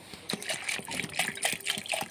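Water trickles and splashes into a pot of lentils mixed with turmeric, a short, close, gentle pour with small bubbling dribbles.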